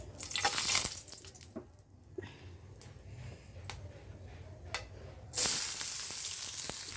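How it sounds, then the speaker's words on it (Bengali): Green chilies fry in a pan with a steady crackling sizzle, punctuated by sharp pops and clatter, swelling louder near the end. "কাঁচামরিচ এইভাবে ভেজে"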